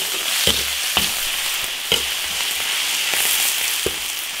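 Beef stir-fries in an iron wok, cooking off its moisture with a loud, constant sizzle. Sharp clanks from stirring break in about every half second.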